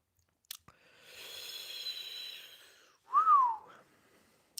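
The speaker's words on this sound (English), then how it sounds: "Why do I keep whistling?" A person whistles close by: a sustained breathy tone, then a brief rising-and-falling whistled note after a pause, in an otherwise quiet room with faint clicks.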